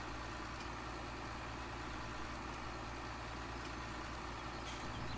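In Farming Simulator 17, a tractor's diesel engine runs with a steady, low, rumbling drone that stays at an even level throughout, with no talking.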